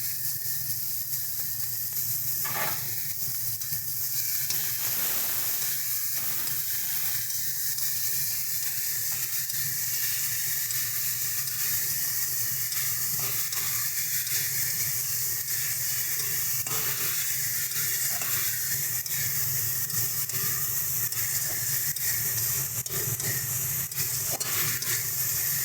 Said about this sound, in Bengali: চলো মাছগুলোকে হালকা করে আমরা ভেজে নিচ্ছি।